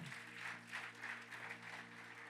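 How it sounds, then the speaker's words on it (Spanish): A church congregation applauds during a service, a faint, distant patter of many hands over a steady low electrical hum. "Dele un aplauso al Señor."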